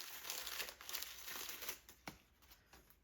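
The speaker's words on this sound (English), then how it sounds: "I'm going to take the paper off." Paper being unwrapped from Christmas ornaments, with close, continuous crinkling and rustling that includes a few sharper crackles, and fades slightly toward the end.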